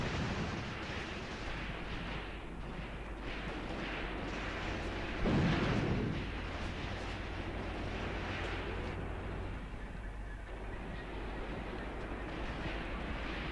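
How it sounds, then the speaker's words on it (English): Continuous rumbling battle din from a 1942 Kharkov wargame, Graviteam Tactics, with heavy machine gun fire and distant booms blending into a steady dense roar, one louder burst standing out midway. "we're taking heavy machine gun fire now from hidden positions further down there in Federovka"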